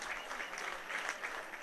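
Crowd at the Savini football stadium standing and applauding after an eleventh straight league win, a fairly distant, steady wash of clapping with small swells, no voices over it.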